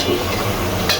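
Bottle gourd sautéing in a pan, heard as a brief, close, steady sizzle with a faint stirring scrape.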